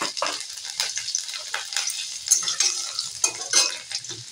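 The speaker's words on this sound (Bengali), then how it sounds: "এই কড়ার তেলে দিয়ে দেব 5 ফোড়ন।" Five-spice tempering and chopped green chili fry in hot oil in a kadai, giving a crackling sizzle broken by scraping and stirring of a metal spoon against the pan at close range.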